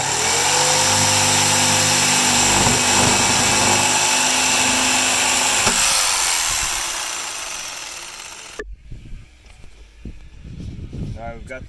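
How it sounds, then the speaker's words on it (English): A power saw whines steadily while cutting the top off a plastic barrel, then stops; afterward a few knocks and handling sounds follow, with some talking. "I'm going to go ahead and get the top cut off this barrel"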